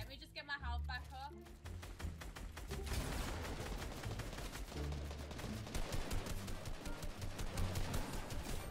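Gunfire from the Fortnite video game in squads mode, rapid repeated shots forming sustained bursts, with a player talking over the start.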